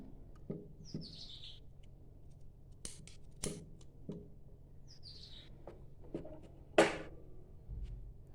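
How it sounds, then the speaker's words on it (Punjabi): Scissors snip off extra fabric while a pocket is fitted to a salwar, sounding as a few sharp separate cuts spaced a second or more apart, with faint bird chirps in a quiet room. "ਆਪਾਂ ਵਾਧੂ ਜਿਹੜਾ ਕੱਪੜਾ ਆ ਉਹਨੂੰ ਕੱਟ ਕਰ ਦੇਣਾ"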